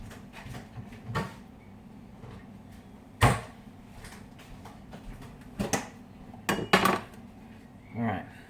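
A Tupperware dish being handled in a home kitchen makes scattered plastic clacks and knocks, with a few louder taps and a quick double clatter near the end over a quiet room.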